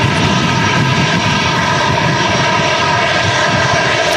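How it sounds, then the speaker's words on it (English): A Brussels Airlines airliner at Manchester Airport during strong crosswinds roars with loud, close, continuous jet engine rumble and hiss, unbroken throughout with no voices. "the Brussels Airlines is on its way back out"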